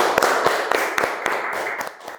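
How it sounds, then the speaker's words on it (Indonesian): A small classroom group claps for a student, producing sparse, uneven hand claps in a loose rhythm, close and moderately loud over a faint background. "tepuk tangan untuk Zawa."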